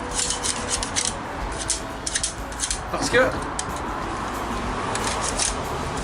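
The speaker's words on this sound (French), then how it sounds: "Maintenant, tout ce qui reste à faire, c'est gratter la corrosion." Corrosion is scraped off an electronic part from a truck, giving short, irregular rasping strokes up close, with a brief squeaky scrape partway through.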